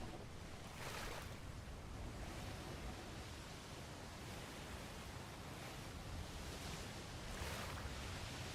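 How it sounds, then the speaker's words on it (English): Ocean waves in a naval combat video game wash and surge in a steady broadband roar, with a few brief swells rising over the constant wash, no voices. "Waves are kind of shit though."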